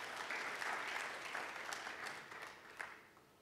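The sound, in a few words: congregation applause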